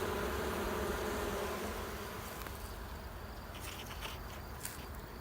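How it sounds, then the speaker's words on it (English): Honeybees buzz loudly inside an opened hive during an inspection, a dense continuous drone close by with a few rustles and light knocks of handling. "You can really hear them buzzing now."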